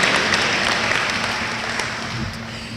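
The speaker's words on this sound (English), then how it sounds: "Please give yourselves a round of applause for Homecoming 2017" Audience applause fills a homecoming convocation hall at Albany State University, a dense, steady wash of clapping that holds at an even level for about three seconds without any voices.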